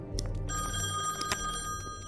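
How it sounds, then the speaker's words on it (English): A telephone rings in The Wolf Among Us video game with a steady, bright, sustained electric bell tone of moderate loudness, heard alone with no talking. "Hey, look, phone call."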